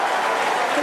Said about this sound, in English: The crowd very excited to see that view.